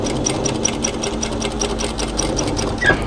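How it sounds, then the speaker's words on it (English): A domestic sewing machine runs steadily, stitching through layered fabric while binding a camisole armhole edge, with a fast even needle rhythm close up and no talking. "So all I'm doing is jamming that in there between the layers and continue sewing."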